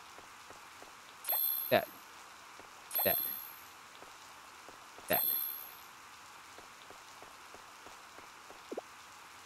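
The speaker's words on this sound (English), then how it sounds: "Still raining." Rain falls steadily in the Harvest Moon: Light of Hope farming game as a soft background hiss. Three short bright chime-like game sounds ring out against it at intervals, and a single word is spoken.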